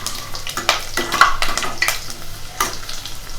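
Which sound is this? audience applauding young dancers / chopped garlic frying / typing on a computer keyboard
chopped garlic frying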